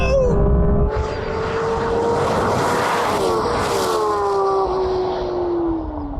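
A Maserati MC20 and a Porsche 911 GT3 RS race side by side, loud engines howling up through the gears with rising whines and shift breaks, close to the microphone and dominating throughout.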